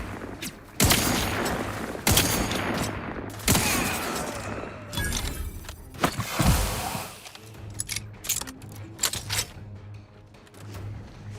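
Bursts of rapid gunfire in The Outer Worlds 2, loud close volleys in three heavy clusters, then lighter scattered shots and mechanical clicks as the firing tapers off.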